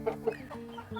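Hens kept for egg-laying give a few close, soft clucks in quick succession, short pulsing calls spaced over about a second.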